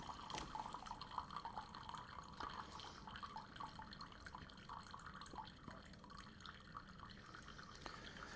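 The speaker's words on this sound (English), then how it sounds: "that water is going to drain out of the syringe" Water drains from a syringe in a faint, continuous trickle with scattered small drips and splashes, quiet and steady throughout with no speech.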